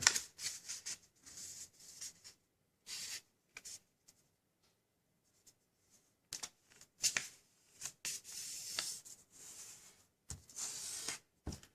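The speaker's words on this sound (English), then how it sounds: "we're going to fold it to this central crease here, like so" Origami paper being folded along a central crease while making a cat: crisp, close rustles and creasing swipes in irregular bursts with quiet gaps between.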